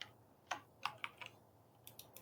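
Keystrokes on a computer keyboard, a handful of quiet, separate clicks arriving in short irregular bursts with brief pauses between, close and alone.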